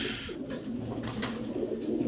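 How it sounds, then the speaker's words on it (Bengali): Soft, low cooing from a cream bar Budapest female pigeon, a continuous close murmur lasting a couple of seconds, without any talk. "এখানে আছে একটা ক্রিম বার বুদাপেস্ট মাদি কবুতর"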